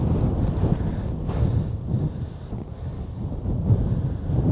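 Gusty wind buffets the microphone beside a lake at the Semipalatinsk Polygon nuclear test site, a steady broadband rush with slightly stronger gusts, with no voices.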